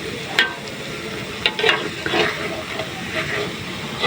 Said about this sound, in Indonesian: Nah, baru saya terakhir rebus kentang.